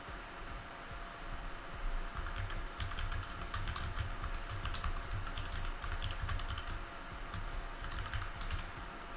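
A long password is typed on a computer keyboard, a rapid irregular run of close key clicks lasting several seconds over faint background hum from a small crypto mining rig setup.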